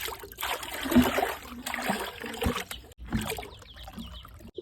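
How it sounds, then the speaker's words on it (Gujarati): Water is poured and trickles into a pigeon's basin, with uneven splashing bursts and brief pauses, close and fairly clear. "આપણે કુંડીની અંદર મસ્ત છે પાણી એડ કરી દઈએ"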